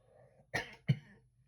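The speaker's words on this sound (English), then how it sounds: "excuse me, I'm coughing a lot. My asthma is pretty bad today." Two short, sharp asthmatic coughs close to the microphone, the second slightly louder, in an otherwise quiet room.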